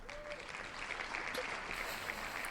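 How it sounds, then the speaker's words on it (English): Audience applause fills the room in a steady, moderately loud round of clapping with no voices standing out. "Wasn't expecting that round of applause."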